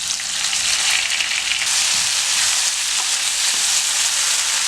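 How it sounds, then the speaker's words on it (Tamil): Vallarai keerai greens dropped into a hot pan, a loud, continuous hiss of frying that stays steady throughout, with no voices. "இப்போ இந்த கீரையை இதில் போட்டுடலாங்க."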